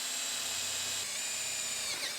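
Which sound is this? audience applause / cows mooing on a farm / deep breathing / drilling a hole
drilling a hole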